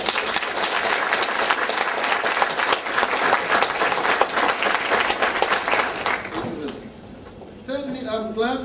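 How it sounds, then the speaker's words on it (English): Applause from a university audience honoring leaders at a lecture on HIV/AIDS and poverty, steady and dense for several seconds before fading out as voices and some tonal sounds take over near the end. "I would ask those of you in the audience to join me in a round of applause for such leaders and leadership."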